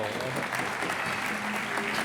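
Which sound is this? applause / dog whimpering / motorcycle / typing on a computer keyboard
applause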